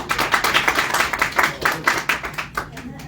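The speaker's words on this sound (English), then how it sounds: "let's give a round of applause for Len." Applause for Len from a small group of Bigfoot investigators and enthusiasts in Pennsylvania, a brisk run of nearby claps from a few hands with some talk mixed in.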